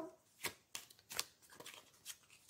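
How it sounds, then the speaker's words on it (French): Oracle cards are shuffled for a seven-card general reading, giving a few soft, faint riffles and slaps in short uneven bursts. The room around them is quiet. "on va prendre l'oracle d'Anthony Martin pour voir un petit tirage général. On va se faire ça en 7 cartes"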